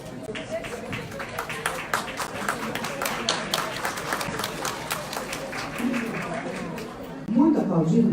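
Audience at a business conference in Brazil applauds, a sustained patter of many hands clapping while an announcer speaks over it and a low crowd murmur swells near the end.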